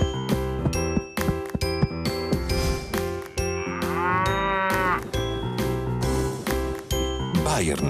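A cow moos in an Italian supermarket TV advert, a long bovine call heard over bright jingling music with bell tones and a voice talking.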